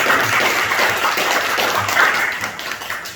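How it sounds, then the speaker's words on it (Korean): A church congregation applauding in welcome for a few seconds during a Sunday service, dense clapping from many hands in a room, with no voices over it. "환영의 박수 한번 할까요?"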